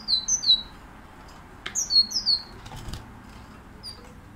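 A small songbird flaps its wings as it enters a nest it has begun to build, with bright high chirps before and after. The quick wingbeats and calls are close and clear over a quiet background.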